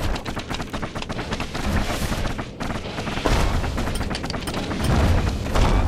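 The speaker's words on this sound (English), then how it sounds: "They're shooting little dingities at me" Enemies rapidly fire small projectiles in the game Bastion, a dense stream of sharp popping shots and impacts that continues without pause and grows slightly louder, with no talking.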